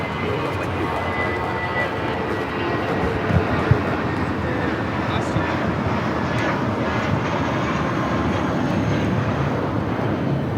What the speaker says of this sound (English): 7855 taking off to Aguascalientes on the A320